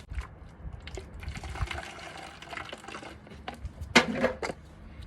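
Reused water poured from a homemade plastic watering can with holes pierced in the lid into an upcycled plant pot, a soft trickling splash with a brief louder gush near the end, moderately close.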